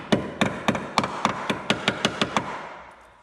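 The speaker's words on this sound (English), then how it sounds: "We're gonna kind of hammer this a little bit flatter." A hammer strikes a steel plate to flatten it during a van front suspension overhaul, about eleven sharp ringing blows in a steady rhythm, close and loud, with no talking.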